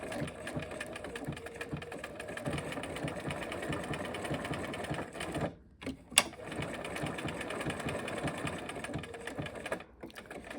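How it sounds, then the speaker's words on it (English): A sewing machine stitches a buttonhole-stitch appliqué with white bobbin thread. It runs with a close, steady mechanical whir and rattle, stops briefly twice, then starts again. No voices are heard. "I am using a buttonhole stitch to applique this down, and I have just a white thread in my bobbin"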